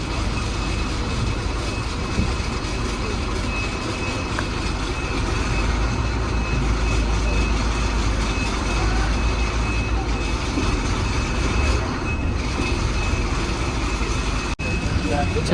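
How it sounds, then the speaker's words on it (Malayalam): A KSRTC Minnal interstate bus runs from Palakkad toward Kanyakumari, its engine and road noise forming a constant, loud broadband rumble that holds steady throughout with only a brief click near the end. "വണ്ടി കറക്റ്റ് 7:00 സ്റ്റാർട്ടായിട്ടോ."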